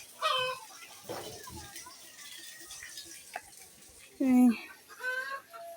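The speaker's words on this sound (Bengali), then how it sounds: "হাঁস মুরগি ডাকা ডাকি করতেছে" Ducks and chickens cluck and call in short scattered bursts nearby, with one louder, harsh squawk near the end.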